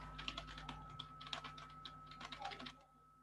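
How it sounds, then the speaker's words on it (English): Rapid typing on a computer keyboard, a close string of light irregular key clicks over a faint steady hum, stopping just before the end. "So I'm just typing some content here."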